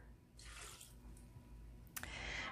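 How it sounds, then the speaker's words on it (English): Half a cup of water is poured into a container of cashews for a sauce: a short, close splash of running liquid with a brief louder gush near the end. "this is 1/2 cup of water."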